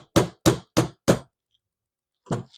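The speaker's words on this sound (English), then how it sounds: "is I'm just tightening down that lock ring and give it a spin." Four evenly spaced metallic knocks as a bicycle freewheel lock ring is tightened down, then a pause and one softer knock, close and crisp against silence.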